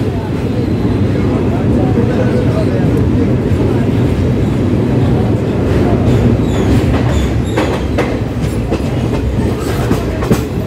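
Doon Express train rolling into Kashi (Varanasi) station, a loud steady rumble of wheels and carriages with clickety-clack over the rails and squeals building toward the end, voices talking throughout.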